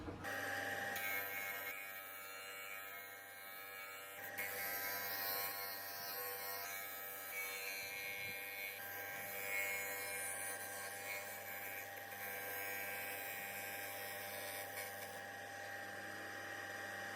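A wood router fitted with a 3/8 inch bit cuts a 9mm cavity along a template in wood for a tambour roll-top bread box, giving a steady high-pitched whine held close and loud throughout, with no talk.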